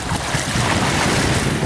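Steady rush of surf and wind on a deserted white-sand beach on Phu Quoc island, Vietnam, a continuous broadband wash with low rumble, no voices, sounding close and fairly loud.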